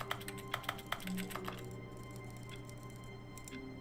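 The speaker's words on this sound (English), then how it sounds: "Everywhere sounds like a keyboard except on the keyboard." Footsteps in The Stanley Parable that sound like clicky keyboard typing: a quick run of sharp taps for about a second and a half, then fainter scattered clicks under a steady hum, with a voice talking faintly.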